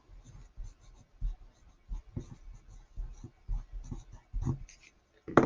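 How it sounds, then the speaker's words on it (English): Pencil scratching across paper while spelling words are written out, a run of short uneven strokes at close range, with no talking. "So I can write it once in pencil, once in pen"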